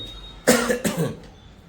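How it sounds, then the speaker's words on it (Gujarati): Two sharp, close coughs in quick succession, followed by a faint breathy trailing sound, with no talking. "મને ઉધરસ કેમ આવે ને અત્યારે"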